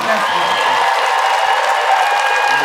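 A crowd cheers and applauds as a dropped-in effect, a steady wash of clapping and shouting that stays loud and constant.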